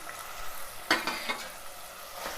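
Fresh-ground ginger garlic paste frying in a pan for mango pappucharu, a soft continuous sizzle with a few sharp stirring scrapes near the middle, heard alone.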